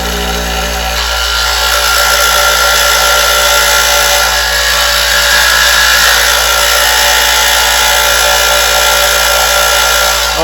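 A Mattel Power Shop toy jigsaw strains to cut through pine, making a loud, continuous buzzing drone that holds steady from start to finish with no voices.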